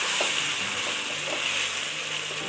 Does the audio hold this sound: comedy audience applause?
no